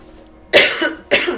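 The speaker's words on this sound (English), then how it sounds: "I started coughing as soon as I said Scorpio and hit the thing." Two quick, loud coughs from one person close by, the second following about half a second after the first, with near silence before them.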